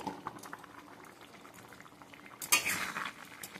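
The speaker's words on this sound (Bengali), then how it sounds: "এবার চিংড়ি মাছগুলো ছেড়ে দেবো ঝোলের মধ্যে" Prawns slide into a pot of simmering gravy for a gathi kochu prawn dish, with a steady close bubbling boil and a sudden splashy burst near the end as they land, and faint utensil clinks.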